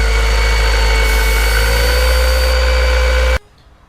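Honda engine running with an abnormal noise blamed on a bad intake manifold gasket: a loud, close, steady droning hum with a harsh buzzing edge that continues alone for about three seconds and then cuts off abruptly.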